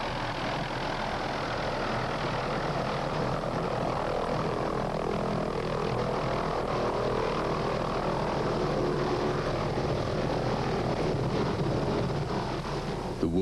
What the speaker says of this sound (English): At last, the medical evacuation helicopter arrives through the early morning mist. A Hughes 500.